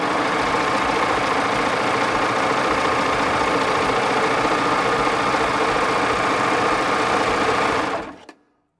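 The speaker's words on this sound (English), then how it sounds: "when you run it through a serger" A Baby Lock serger stitches steadily along frayed fabric edges in one continuous, close, even whir that stops abruptly near the end.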